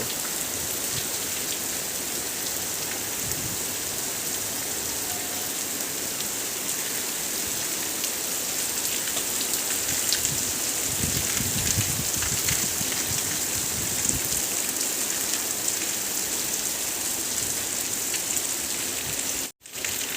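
Steady heavy rain pours down for the whole stretch, a dense continuous hiss with a brief dropout near the end.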